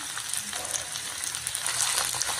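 Carrots, beans, cauliflower, butter beans and potatoes fry in a kadai pan with a steady, close hiss and crackle of sizzling oil.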